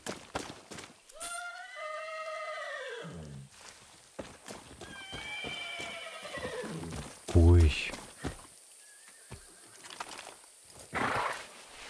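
Far Cry 6 horse neighs and whinnies ring out over busy talk and clicks, with a loud thump midway and a brief hoof-like patter.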